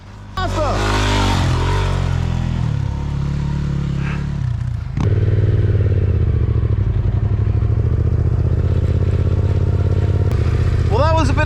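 Motorcycle climbing a sandy hill on a beach during an adventure ride in Australia, its engine droning loud and close for the whole stretch and rising in pitch as it revs.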